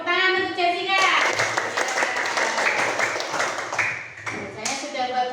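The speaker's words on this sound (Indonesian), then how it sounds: "tepuk tangan untuk Jessica" Children in an Indonesian primary classroom clap for a classmate named Jessica, a dense burst of many small hands lasting several seconds, with a voice heard before it starts and again as it fades.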